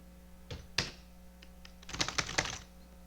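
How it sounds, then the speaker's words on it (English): Keys on a computer keyboard are tapped in a short, quiet run: a few isolated presses, then a quick cluster of clicks close by over a faint electrical hum. "We type a little bit more."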